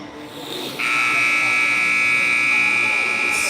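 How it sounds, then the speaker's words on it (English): Sustained electronic game buzzer at an 18U girls' hockey game marking the start of overtime, a loud steady tone that kicks in abruptly and holds over arena crowd noise. "There's our buzzer. Beginning of overtime."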